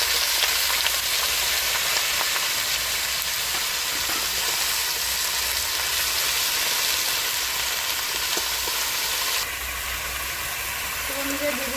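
Vegetables sizzle and fry in a hot pan after ginger paste, a steady close-up crackling hiss lasting throughout with a slight drop in intensity near the end.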